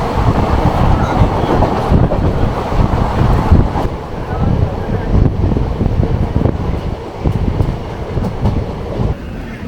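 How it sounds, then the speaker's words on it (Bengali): Passenger train from Sealdah pulling into Dum Dum Junction, heard from on board: a continuous loud rumble with wind rush and rhythmic rail clatter throughout, plus brief metallic knocks. "ট্রেন আপনার যথারীতি ঢুকছে"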